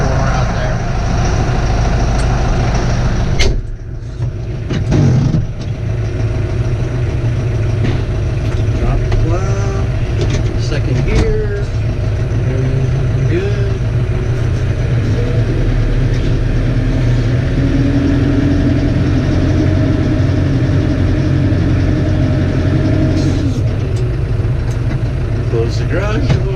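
A large diesel tractor engine idles steadily with a deep, continuous rumble, close by and loud, after a brief starting surge; a person speaks over it. Winter setting in northwest Pennsylvania.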